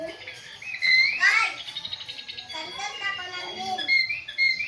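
Small birds chirp and tweet in short bursts close by, mixed with squeaky high calls while a child and other people talk over them.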